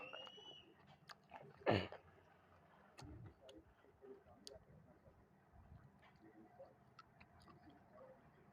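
Crunchy kimchi radish is bitten with one sharp crunch near the mic, followed by quieter scattered chewing clicks and small mouth noises in an otherwise quiet room.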